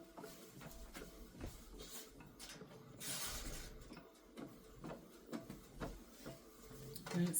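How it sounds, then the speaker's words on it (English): A DTF printer laying ink onto film whirs and clicks as the print head shuttles, with a steady low mechanical hum and a few sharper carriage knocks, fairly quiet and close. "And now it's going to start printing."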